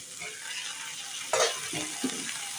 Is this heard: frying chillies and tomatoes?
yes